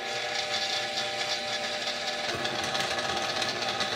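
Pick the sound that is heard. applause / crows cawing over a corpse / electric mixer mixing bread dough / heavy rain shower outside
electric mixer mixing bread dough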